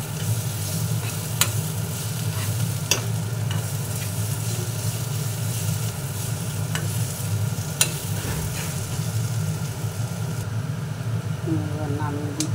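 Vegetable chhechki sizzling in a pan while garam masala is stirred through it, a steady close frying hiss with a few sharp spatula scrapes against the pan and a low hum underneath.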